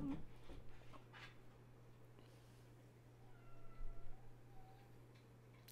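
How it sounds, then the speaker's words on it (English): A cat meows faintly in the background during a sports talk show, a few thin, drawn-out calls partway through, heard over a low steady hum. "Cat."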